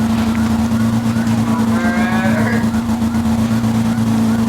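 A riding lawn mower's engine runs steadily and close by as it drives along, a constant droning hum with a faint passing whine in the middle.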